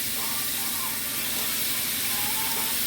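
Steak and peppers sizzle in a hot skillet, a loud, dense, continuous hiss close by with no pauses.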